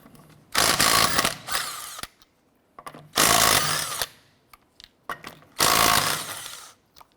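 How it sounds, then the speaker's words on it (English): Impact gun with a 19mm socket removing lug nuts on a 2006-2013 Chevrolet Impala: three loud bursts of hammering rattle, each about a second long, separated by quiet gaps with small clicks and clanks, close by. "let's go ahead and remove our lug nuts"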